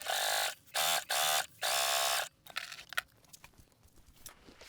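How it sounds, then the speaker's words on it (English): A sewing machine topstitches along the top edge of a backpack panel with a longer stitch length, running in several loud, close bursts before giving way to softer fabric handling noises. "I'm going to top stitch along that top edge around 1/8 of an inch from the edge"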